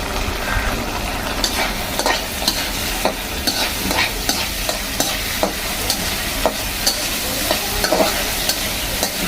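Dried fish and taro stolons cooking in a pan with crushed garlic, stirred briskly under a constant sizzle, with regular scraping strokes and sharp spoon knocks repeating every second or so.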